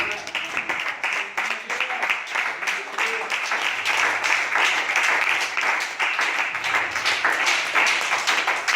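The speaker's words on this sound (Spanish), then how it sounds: "Alábele al Señor y denle un aplauso." A church congregation breaks into sustained applause, many hands clapping densely and loudly with a few voices mingled underneath.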